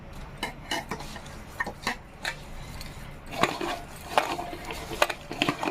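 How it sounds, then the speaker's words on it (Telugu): Urad dal batter is stirred into washed, drained urad husk with a spoon in a bowl, giving soft wet scraping and irregular light clinks of utensil on vessel, fairly faint and steady, in a quiet kitchen. "ఇప్పుడు ఇందులో మనం మినపిండిని మిక్స్ చేద్దాం"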